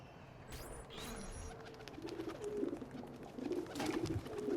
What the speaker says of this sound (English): Love those HD pigeons.